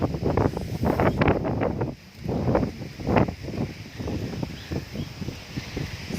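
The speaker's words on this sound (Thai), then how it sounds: "ลมแรงมาก" Strong cold wind at Pa Sak dam buffets the microphone in loud, continuous rumbling gusts that swell and ease, with faint rustling underneath.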